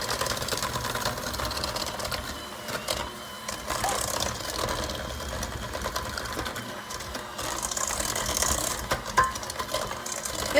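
A handheld electric mixer beats eggs, added one at a time, into vanilla cake batter, whirring steadily and loudly throughout with slight shifts in pitch as it moves around the bowl.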